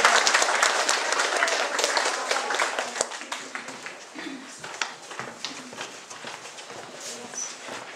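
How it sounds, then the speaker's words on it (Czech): Audience members at a library award ceremony in Hodonín applaud loudly at first, and the clapping thins and fades over several seconds as a voice begins speaking. "tak jim vzdušně zatleskáme"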